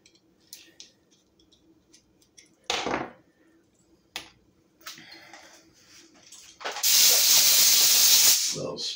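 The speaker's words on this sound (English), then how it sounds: "Little spritz." A short aerosol spritz is heard during a nitro engine repair. A loud hissing burst lasts about two seconds near the end, preceded by scattered quiet clicks and handling noises from the workbench.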